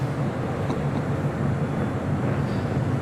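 A British Airways Boeing 777-200ER heavy jet departing LAX produces a dense, steady low roar of engine thrust, loud and unbroken across the whole moment.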